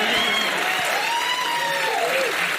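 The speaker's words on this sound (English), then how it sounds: "They're cheering for this." A studio audience cheers and applauds loudly, with steady dense clapping and whooping voices filling the room for several seconds.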